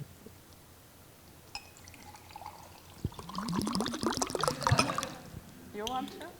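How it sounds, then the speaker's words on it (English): Water poured into a glass on a festival stage, a trickling, splashing fill that grows louder and busier partway through, with a few small clinks and drips around it. "And now we will drink water on stage."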